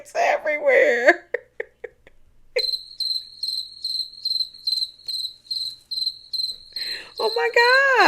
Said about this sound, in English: It's like crickets everywhere.